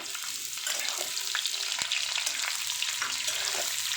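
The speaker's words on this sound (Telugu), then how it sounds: "తర్వాత ఉల్లిపాయలు వేసుకోవాలి" Onions sizzle and crackle steadily in hot oil in a pan for chicken pulao, a dense continuous frying hiss with occasional scrapes of stirring, close and fairly loud throughout.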